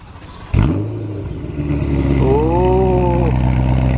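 A BMW E92 M3 with a decat exhaust fires up from a cold start with a sharp bark, then settles into a loud, steady, high idle that rises into a sustained rev. The sound is close and there is no talking.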